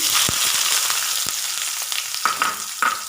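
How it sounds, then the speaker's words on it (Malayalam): Finely chopped small shallots fry in hot oil already crackling with mustard and cumin seeds, a loud close sizzle with a few sharp pops and spatula scrapes against the pan. "ഒരു 8 ചെറിയുള്ളി ഞാനിവിടെ എടുത്തിട്ടുണ്ട്, ചെറുതായി അരിഞ്ഞിട്ട് അതിട്ട് കൊടുക്കാം"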